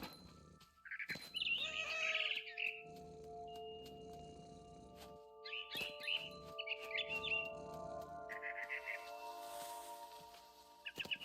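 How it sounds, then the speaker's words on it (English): In the video game What Remains of Edith Finch, a barn swallow chirps outside a window in short bright bursts, repeated a few times over sustained musical tones. "Then I heard chirping outside my window. It was a barn swallow going back to her nest."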